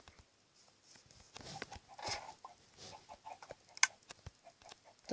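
Chickens in a Minecraft Pocket Edition automatic chicken farm, faint scattered clucks and soft patter with a few sharp blips, quiet and irregular, with no talking over them.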